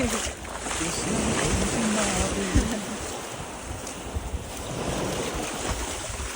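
Steady broadband wash of sea surf rolling onto a beach in Gangneung, South Korea, with wind buffeting the microphone and a faint voice briefly audible early on.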